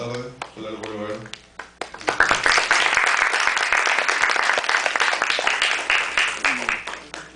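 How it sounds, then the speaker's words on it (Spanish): Sustained applause from an audience at a law diploma lecture after the speaker's talk, a loud dense patter of clapping that swells quickly and holds steady, with brief speech at the start. "Un fuerte aplauso"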